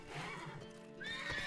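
Horses in The Witcher 3 whinny close by with shrill, wavering neighs over a constant background of stable noise and shuffling hooves, no voices present.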